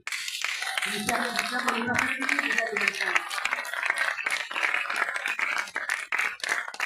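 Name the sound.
timid audience applause in a hall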